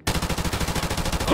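AR rifle gunfire in Modern Warfare Remastered video game, a loud close burst of rapid automatic shots in an even, unbroken rhythm.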